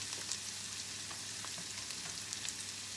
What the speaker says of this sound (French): Donc là, on fait revenir les oignons tranquillement.